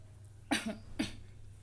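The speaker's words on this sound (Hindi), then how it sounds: "खांसी आ रही है" Two sharp coughs about half a second apart, close and fairly loud, over a low steady hum, with no talking.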